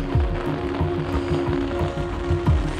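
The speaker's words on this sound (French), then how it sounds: "Toujours autant de pluie" Steady mountain rain in the Thabor massif of the Alps patters across a surface, with a constant hiss and scattered drops, alongside a low droning hum throughout.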